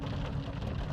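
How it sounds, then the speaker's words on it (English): Steady rain falls outdoors as a dense, continuous hiss with soft patter, holding at an even level throughout with no voices over it. "How appropriate that we have the rain."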